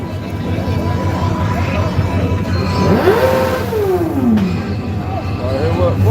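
A Hemi-powered small-tire no-prep drag race car accelerates at a dragstrip, its engine note sweeping up then falling away as it passes, under steady crowd noise and a nearby talking voice.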